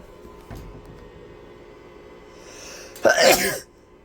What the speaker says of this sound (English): So I just sneeze.